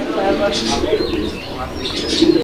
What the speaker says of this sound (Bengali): একটু লাড়া চারা দিয়ে দিলাম দেখেন কবুতর গুলো